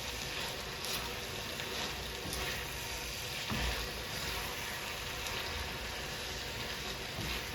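Grated potato and carrot fry in a pan while being stirred, giving a dense continuous sizzle with soft scraping strokes, close and steady with no voices.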